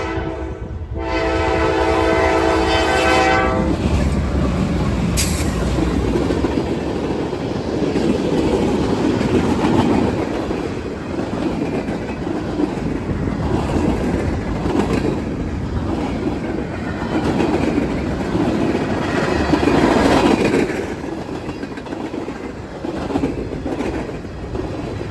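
Freight train L423, a long consist of over 100 axles, rolls past close by with a steady loud rumble and clickety-clack of wheels, a brief horn blast opening the pass.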